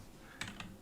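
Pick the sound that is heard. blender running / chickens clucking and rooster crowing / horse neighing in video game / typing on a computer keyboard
typing on a computer keyboard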